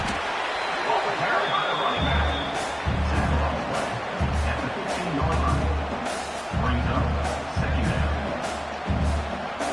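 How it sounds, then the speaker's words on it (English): Stadium crowd in a college football video game, Oregon versus Michigan State, a loud continuous roar with surging waves of cheering and repeated low thumps during play near the red zone. "And the crowd coming to life here, trying to help this defense down in the red zone."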